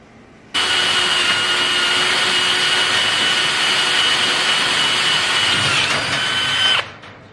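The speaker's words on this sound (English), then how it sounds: "now it's time to drill some holes, which we've already drilled in our angle through the rest of the way" A power drill bores through metal angle on a utility trailer, running as one continuous, loud whine for about six seconds before spinning down and stopping.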